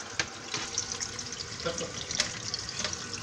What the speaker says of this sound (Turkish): Şimdi arıtma cihazına su doluyor.